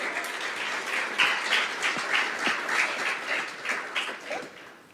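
A church congregation claps together in sustained, lively applause that fades out over a few seconds.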